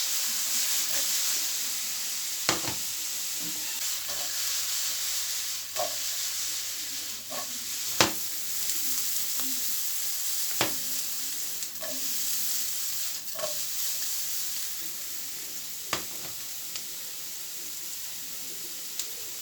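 Zucchini frying in a pan, a steady soft sizzle and hiss with occasional clicks of a utensil stirring, fairly quiet and continuous.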